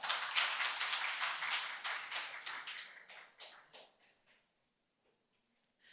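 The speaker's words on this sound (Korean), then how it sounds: "고생하신 쪽방 라이트 팀에게 박수 부탁드리겠습니다." Applause from an event audience for a presenting team at a youth social living lab pitch session, scattered claps that thin out and fade to near silence by the end.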